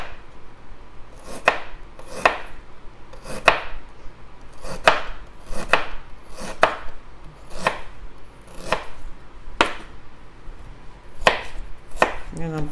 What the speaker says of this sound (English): Next thing, I'm going to slice the ginger.